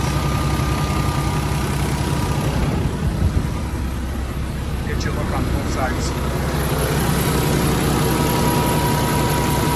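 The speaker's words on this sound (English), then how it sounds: "This engine is stone cold. Listen to how quiet it is." A 2016 Kenworth T680 truck's diesel engine idles cold with a low, steady rumble while someone talks over it.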